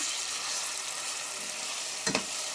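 A chili chutney mixture with chili powder and garlic being stirred in a hot pan, giving a continuous close frying hiss with a couple of brief scraping knocks near the end.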